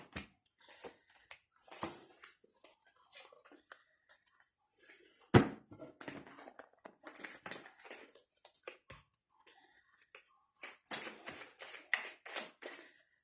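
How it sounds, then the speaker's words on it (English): Tarot cards are shuffled by hand in a quiet room, giving soft, irregular riffling and papery patter with occasional sharper taps. "as I'm sitting here shuffling"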